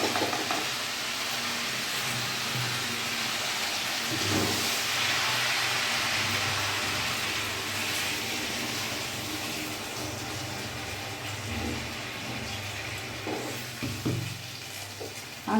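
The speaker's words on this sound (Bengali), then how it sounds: "ভালো করে কষানো হয়ে গেছে এবার আমি এর মধ্যে জল অ্যাড করব" Water poured into a sizzling labra curry in a pan brings a steady, loud frying hiss with bubbling and stirring scrapes that continue throughout, with no talking.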